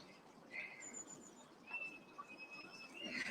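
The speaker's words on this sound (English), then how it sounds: "Did you just hear the eagle? Red kite." A red kite calls in thin, high whistling cries out in the open, a few drawn-out notes spread over a few seconds above low background noise in a home kitchen, with no talk over them.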